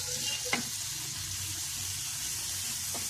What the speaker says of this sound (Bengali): এখন এখানে আমি নারকেল পেস্ট সাথে 2টা তেজপাতা কাইটে নিচ্ছি